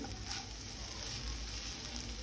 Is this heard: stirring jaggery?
yes